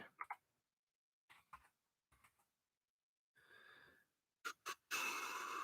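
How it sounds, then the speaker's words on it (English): Computer keyboard typing, short bursts of clicking keys separated by pauses, close and fairly quiet, with a brief rushing breathy burst partway through. "You're gonna hear about my keyboard."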